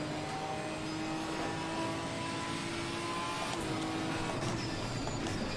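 GT4 race car engine in Assetto Corsa Competizione, a steady loud drone with a continuous tonal whine held throughout, shifting pitch slightly near the end as the car keeps moving.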